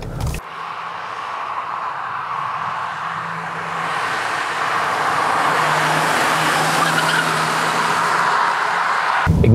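A BMW with a 3-litre inline-six drives with a steady engine drone and broad road and wind roar that builds gradually as it speeds up, heard from inside the car without talking.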